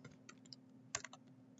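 Computer keyboard keys clicking in a brief, quiet run of separate taps with one sharper stroke near the middle, close up over a faint steady hum.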